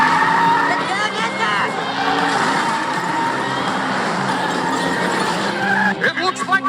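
A hijacked race car causes a catastrophic crash on the track in a South Park cartoon, with engine roar and squealing skids under overlapping voices, ending in rougher bursts of impact noise.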